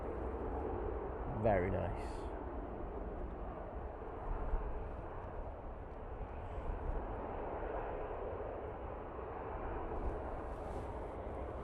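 An airliner landing at a windy Manchester Airport with thrust reversers roaring, a broad distant rumble heard over wind noise, with a voice briefly speaking near the start.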